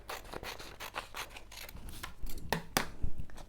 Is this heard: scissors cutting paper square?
yes